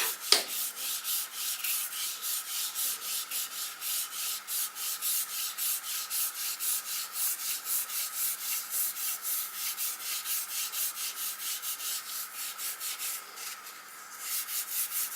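Steady scratchy rubbing of a blending tool pushing ink across card, in fast regular back-and-forth strokes that continue without a break, close and fairly loud with no voices.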